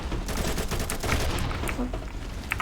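Dual AK rifles fire in the shooter game Combat Master, rapid overlapping bursts of automatic gunfire, loud and dense, with a voice faintly underneath.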